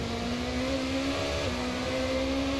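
BMW and Porsche race car engines in a racing video game hold steady, loud, mid-pitched drones with a slight pitch shift partway through and no talk.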